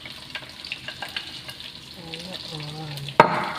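Cabbage sautéed in a hot pan: a close, steady sizzle with the scrape and toss of stirring, building toward the end, where a sharp metallic clatter breaks in.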